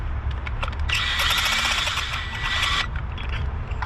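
A power tool briefly whirs as it snugs a spark plug into a 2017 Hyundai Tucson engine, a loud, steady burst of about two seconds standing out from quieter workshop background.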